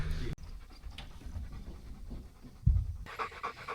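Dogs being taken for a run on a sheep farm pant quickly and steadily close by, quiet breaths carried over faint outdoor background noise.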